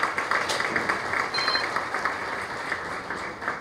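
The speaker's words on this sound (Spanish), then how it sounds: "a quienes les pido un aplauso" Seminar audience at an international conference inauguration applauds the INAI commissioners, a sustained, even wash of many hands clapping in a large room, fairly loud and without talk.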